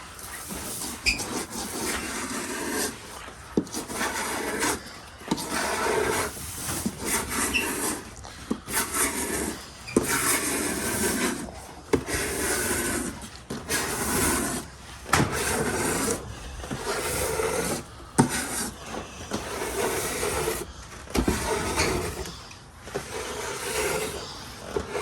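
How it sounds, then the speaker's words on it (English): Fiberglass on a Winnebago RV roof is scraped and cleaned in repeated rough strokes, a loud, close, gritty rasping that comes in bursts separated by short pauses. "we got a little bit of scraping and cleaning we've got to do"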